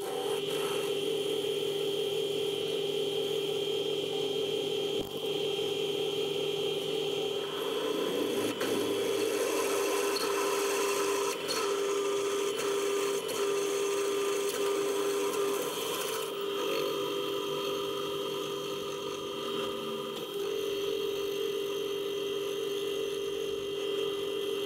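The ends of steel crane brackets are rounded off with a grinding tool, a continuous loud abrasive whine and rasp that runs unbroken for over twenty seconds, its tone shifting slightly as the tool bears down on the metal.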